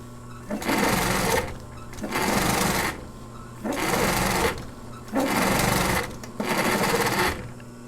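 Sewing machine stitching upholstery fabric while reupholstering a stool, running in five loud, steady bursts of a couple of seconds each, separated by short pauses with a low hum underneath.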